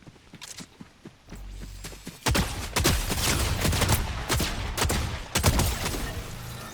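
Shotgun blasts ring out in a Fortnite match, a rapid string of loud, sharp reports in bursts with short gaps between them, alongside footsteps and other game noise.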